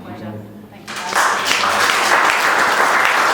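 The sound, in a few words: audience applause at charity event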